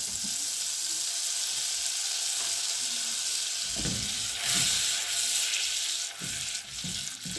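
Salted butter, about three tablespoons, melting in a pan over low heat gives a steady soft sizzle that swells into brighter crackling bursts near the end, close and alone with no talk.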